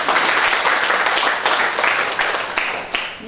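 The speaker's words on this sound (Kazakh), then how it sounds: "Бірақ енді шапалақпен шашу шашайық." Guests at a Kazakh school class's 20-year reunion clap together in sustained, dense applause, loud and steady throughout with a few sharper individual claps near the end; no speech over it.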